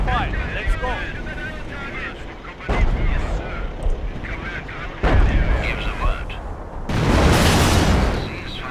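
Heavy artillery fire and explosions in the Company of Heroes game, Operation Market Garden, defending Oosterbeek, booming in repeated loud bursts over rumbling battle noise, with voices speaking through it.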